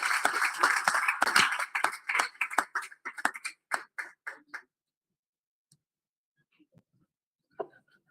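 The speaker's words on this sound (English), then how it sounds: "Let's give a big round of applause." A small audience at a family summit in Goa claps briefly, a loose scatter of hands that quickly thins out into a few isolated claps and then near silence.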